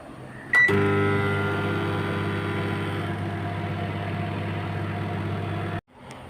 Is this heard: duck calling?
no